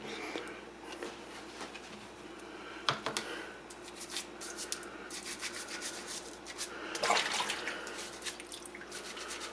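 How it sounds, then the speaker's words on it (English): Vintage Singer 411G sewing machine parts being scrubbed with a brush, giving soft repeated rubbing strokes close by, with a few sharper scrapes and clicks and occasional water drips, no speech. "Might as well just give them a little scrub even though I don't see anything on them."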